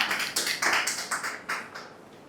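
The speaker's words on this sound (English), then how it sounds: "first a round of applause to my dear friend Toastmaster Vipin" Audience applause for Toastmaster Vipin at a Toastmasters club meeting: a brief burst of hand clapping with uneven, overlapping claps that rise quickly and thin out over about two seconds, with no talking.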